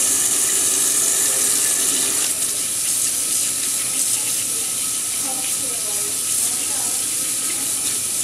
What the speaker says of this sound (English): Rinse hands with fingertips pointing down.